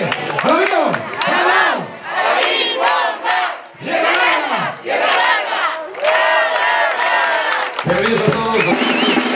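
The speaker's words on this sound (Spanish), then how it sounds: "Una porra grande y fuerte a la colonia Tierra Larga" A crowd at an outdoor neighbourhood event for a paving project cheers loudly for the Tierra Larga neighbourhood, rhythmic chanted shouts rising and falling in waves, with a voice over a loudspeaker.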